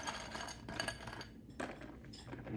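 Ice cubes clinking and rattling into a glass for an iced latte, a quick series of bright, close clinks and clatters against glass, fairly faint, with no talking.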